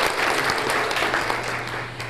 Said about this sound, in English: So let's give them a big round of applause again for taking that step.